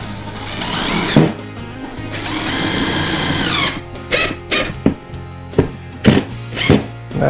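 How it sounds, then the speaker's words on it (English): A power drill drives a couple of screws into the lid of a wooden pallet workbench: a long whirring run, a second sustained burst, then several short sharp pulses as the screws seat, with no talk. "we're going to put a couple screws in here for good measure so our lid doesn't move around on us"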